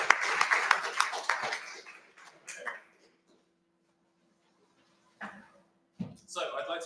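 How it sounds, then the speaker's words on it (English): Brief applause from a small audience at a lecture event, a short burst of clapping that quickly thins out, followed by near silence and a few scattered sounds and voices. "please, everybody give Ellen a round of applause."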